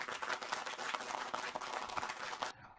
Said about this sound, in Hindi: मैं आपकी जोरदार तालियों के बीच में आमंत्रित कर रहा हूँ